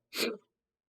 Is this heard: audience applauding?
no